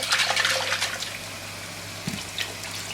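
Water poured into a pan of masala sweet corn curry makes a short splashing, gurgling pour, close and fairly loud at first and then settling into a quieter trickle, with no talking.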